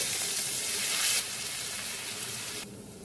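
Spices fry in a pan for a mung dal and ash gourd ghonto, giving a close, continuous bright sizzle that holds steady and then drops slightly in intensity near the end.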